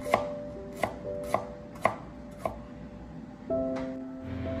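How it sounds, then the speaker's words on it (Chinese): Knife chopping a small piece of peeled fresh ginger on a cutting board, five crisp, evenly spaced chops close by, then a steady kitchen hum. "再把姜片切成姜丝， 将姜丝也切成姜粒"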